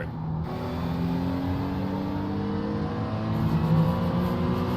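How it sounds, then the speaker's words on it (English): An LMP2 race car in the iRacing video game at Watkins Glen sweeps past with a steady, close engine drone and a gradually shifting pitch, loud and unbroken throughout. "LMP2 coming through, John is on your inside"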